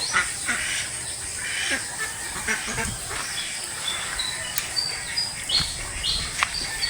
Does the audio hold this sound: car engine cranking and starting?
no